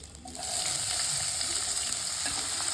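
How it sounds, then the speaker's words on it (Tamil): Chopped onions hit hot oil in a pan for a vegetable paya curry, and a loud, continuous sizzle with crackling rises within half a second and holds steady. "இது நல்லா பொரிய விட்டு வெங்காயத்தை சேர்த்துருவோம்"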